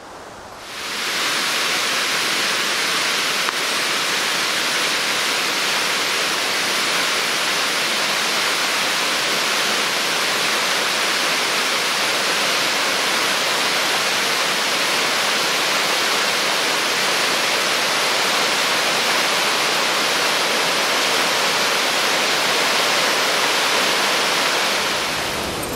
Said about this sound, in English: So we made it here to Sanderson Brook Falls, one of the prettiest waterfalls in western Massachusetts.